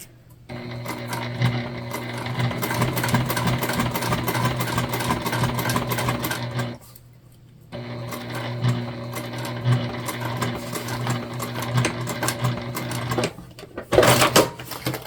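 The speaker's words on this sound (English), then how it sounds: "So we top stitched right here on our exterior." A sewing machine top stitches along the exterior of a handmade bag, its steady mechanical whir and rapid needle chatter running continuously for several seconds, pausing briefly, then resuming before a short clunk near the end.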